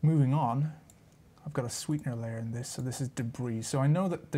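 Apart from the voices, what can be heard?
None of the usual background noises is heard.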